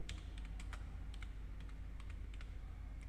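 Someone types on a computer keyboard while entering a voucher in Tally accounting software, producing a steady run of light, fairly quiet key clicks over a constant low background hum.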